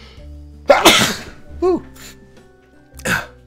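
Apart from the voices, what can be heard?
YouTuber sneezing on camera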